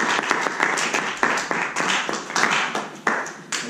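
Audience at a Toastmasters club meeting claps to welcome the club president to the stage, a brief burst of scattered, uneven hand claps that swells and dips over a few seconds, fairly close.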